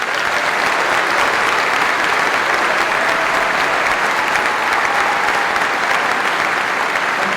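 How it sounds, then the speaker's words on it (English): A large audience at a Warwick University graduation ceremony claps steadily, a dense, even wash of applause that is loud and unbroken, with no voices rising above it. "give a huge round of applause and enthusiastic welcome to the Vice-Chancellor and President"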